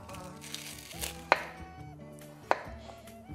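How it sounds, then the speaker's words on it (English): A knife chops through peeled potatoes for a Portuguese cataplana fish stew, with two sharp, close cuts against a board standing out among softer knocks, no talking. "I'm gonna cut my potatoes here because they are gonna be layered in our cataplana"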